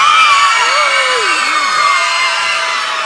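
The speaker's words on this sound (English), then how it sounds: "By show of applause, who votes Team Red?" An arts collective audience casts a vote for Team Red at a Christmas-themed competition, loud crowd cheering and shouting with whoops, children's voices prominent, sustained throughout.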